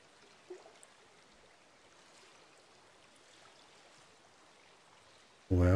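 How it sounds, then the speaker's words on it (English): A waterfall in The Grand Canyon VR Experience game gives a faint, steady rushing wash of water throughout, ending in a sudden loud tonal burst. "Don't tell me we're gonna go through the waterfall."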